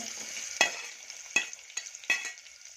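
Hot oil in a pan heating for frying, a soft crackling sizzle broken by three or four sharp taps and pops, close and moderately quiet.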